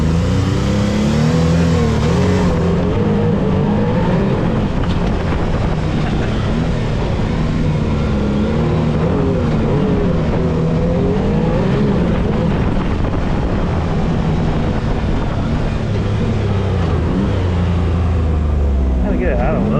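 A 2024 Can-Am Maverick R side-by-side engine revs and accelerates steadily, loud and close, pitch rising and falling as the throttle changes, with brief talk mixed in.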